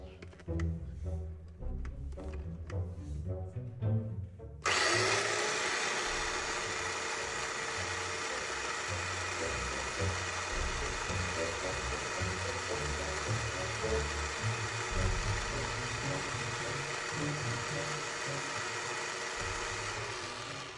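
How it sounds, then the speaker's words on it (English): A Robot Coupe food processor grinds a big batch of cooked red beans for sweet bean buns. It starts abruptly after a few seconds of softer sounds and then keeps up a loud, steady motor roar to the end. "Since I'm making a big batch, I'm using a RoboCube to grind it."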